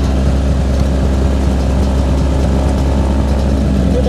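A motorcycle engine idles steadily, a loud continuous low rumble with an even throb and no revving, and nobody speaking.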